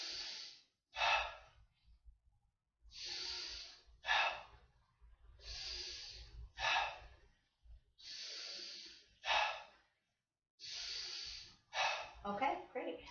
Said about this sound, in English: Take a deep breath in and out.